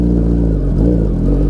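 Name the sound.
Suzuki Hayabusa sport bike engine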